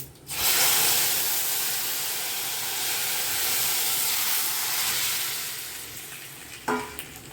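Pumpkin greens hit hot oil in a pan and set off a loud, steady sizzle that fills the whole stretch, easing slightly toward the end before a brief clatter near the close; no talking.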